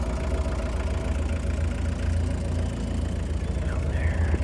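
A 1991 VW Doka Syncro 4x4 three-door truck with a five-speed gearbox running, its engine a steady, moderately loud low chugging drone heard from the cab, with a brief faint squeak near the end and no talking.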